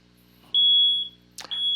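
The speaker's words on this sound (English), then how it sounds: "So here the waiter got the audio alert and the notification." An iOS app sounds an audio alert notification: two clear, high electronic beeps, the first lasting about half a second and the second following after a short swishing chime, in a quiet room.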